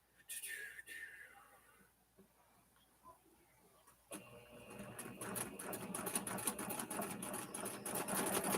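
A sewing machine stitches, starting a few seconds in after a quieter stretch with faint scattered sounds, then running as a steady, rapid, close mechanical clatter that continues to the end.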